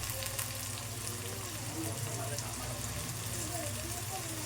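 Tomatoes frying and being mixed in a pan for pasta, a steady close sizzle with stirring, while a person talks over it.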